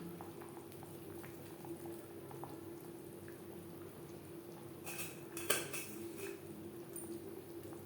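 Koi fish curry simmering in a thin gravy on a gas stove, a steady soft bubbling with a few light clinks of a utensil against the pot and one sharper metallic knock.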